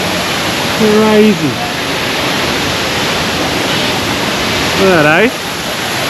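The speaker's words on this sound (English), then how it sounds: "Look at this waterfall." A waterfall in the Crimson Wetlands at Singapore Bird Paradise gives a constant, loud rushing roar, and two short spoken exclamations rise over it.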